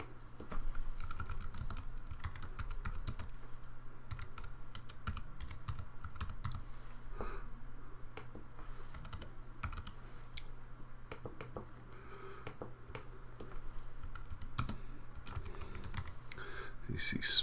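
Typing on a computer keyboard while working in Google Docs, quick irregular bursts of light key clicks with short pauses over a low steady hum, close and soft.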